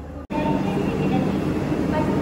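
Visakhapatnam to Bengaluru superfast express standing at the 7th platform of a station; a brief cut opens onto a steady loud rumble of rail and platform noise with faint murmuring, continuing evenly throughout.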